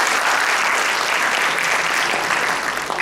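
Dense applause from a classroom audience at a masterclass, a continuous crowd of hands clapping at even loudness for the whole stretch, with no talk over it.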